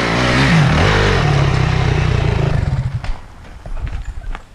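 Honda CRF 250x dirt bike engine labouring up a loose, zero-traction hill climb, a loud, close, rough drone with rising and falling revs, then choppier bursts as it struggles.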